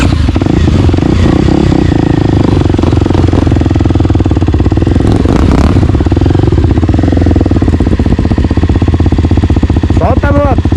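A Kawasaki KLX 300R trail motorcycle runs loud and close on a dirt trail, its engine chugging and clattering steadily throughout, with a voice speaking over it.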